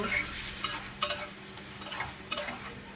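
Chili and spices frying in a pan for a thin rohu fish curry with ridge gourd, stirred with a spoon. A quiet sizzle runs under three or four sharp scraping strokes against the pan, spaced roughly a second apart.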